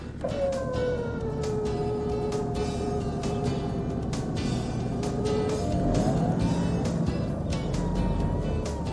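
Nissan Patrol driving out of a bog with help from a Warn winch: a steady engine drone with rising and falling tonal whine, moderately close, continuous throughout with no talk.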